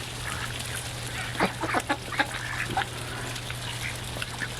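Ducks quack in a short scattered run during a mild Texas thaw after winter snow, moderately close over a steady low hum and background noise.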